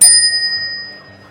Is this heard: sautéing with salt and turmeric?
no